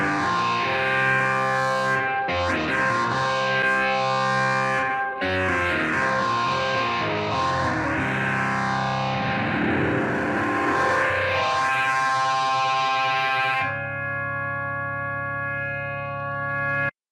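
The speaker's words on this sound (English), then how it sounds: "It goes from that soft organ to the distorted sound, but then we also get that panning effect that is really cool" A rock organ moves from a soft tone into a heavily distorted sound whose swirling, sweeping tone suggests a panning effect, then settles into a steadier sustained chord near the end, loud and continuous with no voices.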